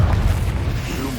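A deep booming blast from the Confringo spell in the Hogwarts Legacy video game, a loud, heavy, low rumbling burst that fills the moment with no voice over it.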